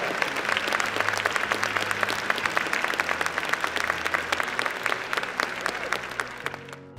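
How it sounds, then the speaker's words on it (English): Audience applause at a motivational speaking event with Les Brown, a dense, steady wash of many hands clapping close by for about seven seconds before tapering at the end. "Give yourselves a round of applause"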